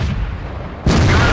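A tank cannon fires in World of Tanks, from the MT-25 light tank: a single loud, sudden boom bursting out of steady engine rumble and then holding as a heavy sustained roar.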